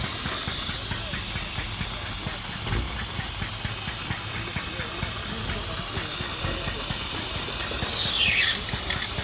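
Steam hisses steadily from the safety valve of a classic steam vehicle at a classic car show, a loud continuous broadband rush with a low engine rumble beneath and a faint voice.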